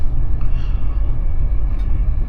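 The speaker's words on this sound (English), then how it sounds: "So yeah, we finally got a train." A train pulls into a station in Scotland, heard as a loud, steady low rumble and rolling drone with faint higher squeals, close by and continuous.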